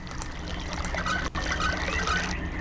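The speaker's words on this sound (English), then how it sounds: "I can hear it trickling." Water trickles and pours steadily in the realMyst game world, a continuous wet splashing flow that stays close and fairly loud throughout, with a brief dip in the middle.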